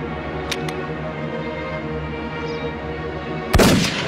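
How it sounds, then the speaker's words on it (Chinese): Gunfire cracks in a rural wartime setting: faint distant shots come early, then one loud sharp report near the end over a steady low rumble. "枪声怎么这么奇怪啊？"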